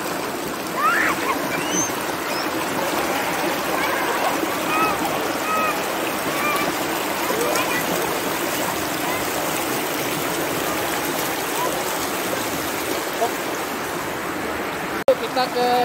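Water rushes steadily at Curug Citeureup Asri, a waterfall and stream in Bogor Regency, a dense constant roar close by with faint voices and small splashes mixed in.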